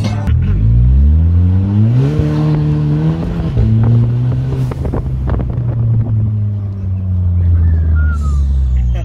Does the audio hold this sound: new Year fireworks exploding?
no